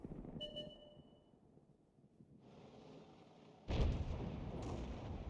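Tank cannon fire in War Thunder: a muffled, distant-sounding boom lands after a quiet stretch, followed by a sustained low rumble, all fairly faint.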